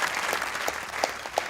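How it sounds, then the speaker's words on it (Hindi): Audience clapping in a television talk show studio, a brief burst of many hands with a few sharper claps standing out over a steady patter. "तालियां होनी चाहिए भाई"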